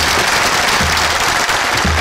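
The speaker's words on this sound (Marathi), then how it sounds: "वाक्य सगळेजण ऐका आणि मग टाळ्यांचा कडकडाट करा" An audience at a Marathi kirtan bursts into thunderous applause, a loud, dense, unbroken roar of clapping held throughout, with no voices on top.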